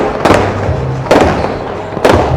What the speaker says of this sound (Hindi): फायर वर्क ना शुरू हो गया